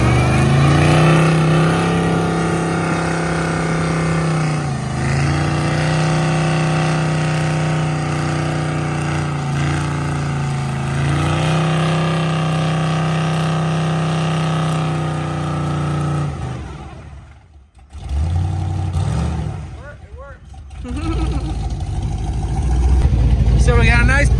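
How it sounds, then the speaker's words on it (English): A truck's engine revs hard and holds high during a tire burnout, a loud sustained roar with rising and falling pitch sweeps, then drops briefly near the end before surging again. "This is the first burnout."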